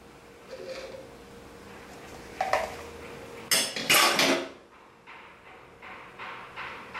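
Pudding ingredients being added into a large glass over a hot base, heard as light clinks and taps of a utensil on glass and dishware, with a louder clattering burst midway, then quieter scrapes.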